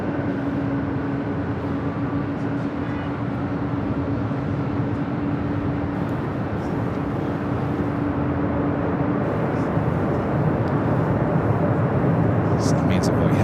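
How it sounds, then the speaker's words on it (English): A large Qatar Cargo jet passes directly overhead at LAX, a steady, loud broadband roar with a faint engine whine that stays strong throughout. "Looks like that big Q Qatar Cargo flying directly over us here."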